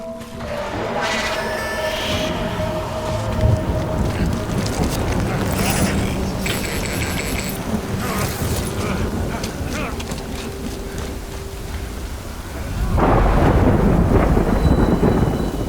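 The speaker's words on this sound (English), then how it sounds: "Good thing it was raining." Thunder and heavy rain in the Death Stranding game world: steady rain hisses throughout, rolling thunder rumbles, and a deep, louder roar of downpour and thunder builds toward the end.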